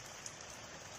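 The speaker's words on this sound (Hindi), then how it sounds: "आज बारिश हो रही है" Heavy rain falls in a continuous, even hiss with a few faint drop ticks, quiet and steady throughout.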